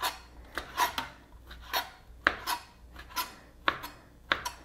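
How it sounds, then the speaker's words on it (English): Knife chopping three slices of thick-cut center-cut bacon into small pieces on a cutting board, a series of sharp, irregular close thuds and taps with brief pauses between cuts. "I have 3 slices of center cut thick sliced bacon. And what I'm going to do is I'm just going to cut this up into little 1/2-inch pieces"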